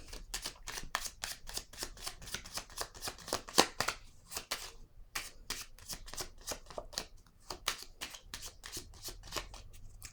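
Playing cards shuffled and laid down in a quiet room, a steady run of crisp riffling snaps and soft slaps that carry on for about ten seconds with no voices.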